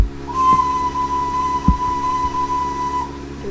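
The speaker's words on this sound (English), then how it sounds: "I'll open the cylinder cocks and I'll blow the whistle." A Stirling Single steam locomotive in Train Simulator Classics on the South Devon railway sounds a single sustained whistle for about three seconds, loud and steady, over a low rumbling background with a couple of mechanical clunks.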